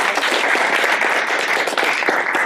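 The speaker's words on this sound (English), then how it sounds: "So if y'all would give him a round of applause." Steady, dense applause from an audience at a Mu Alpha Theta math honor society induction at a high school, loud and continuous throughout.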